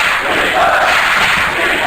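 An esports arena crowd at a Counter-Strike event in Jönköping roars with loud, sustained cheering and shouting that fills the space without a break.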